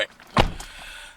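A single solid thunk as the door of a 2008 Lexus GS350 sedan shuts, close and fairly loud, followed by a quiet cabin.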